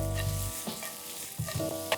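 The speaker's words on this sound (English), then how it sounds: "Now as our zucchini is cooking" Zucchini noodles cook in a pan with a close, steady sizzle, broken by a few stirring clatters and scrapes, no voices.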